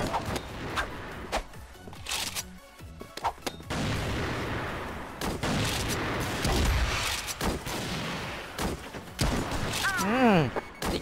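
Rapid gunfire in the online shooter CrossFire, with bursts of shots cracking in quick succession and spells of sustained firing, a voice talking over the action throughout.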